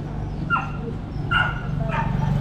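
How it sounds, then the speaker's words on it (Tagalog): A dog whimpers and barks nearby in a few brief, rising yelps spaced about a second apart, carried over steady outdoor hum. "kaya umiiyak yung aso"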